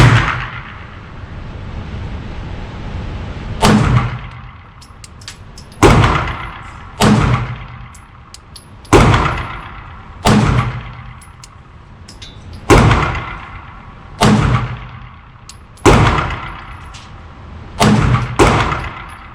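Beretta 92G Elite LTT handgun fired in single action, about a dozen loud sharp reports spaced a second or two apart, each with a short echoing decay, no talking between shots.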